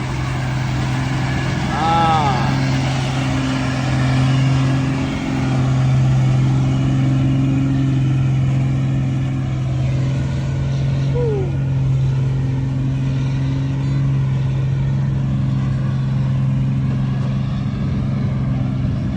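A car engine revs hard at a mud pit track in a mud-pit racing car, a loud sustained mid-pitched roar with rising and falling revs, while voices talk over it.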